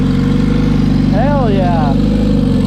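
A car engine, timing not yet set, idles a little high as a steady, loud mid-pitched drone; a voice whoops over it partway through.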